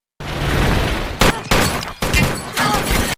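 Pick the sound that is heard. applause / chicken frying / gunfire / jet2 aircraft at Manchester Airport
gunfire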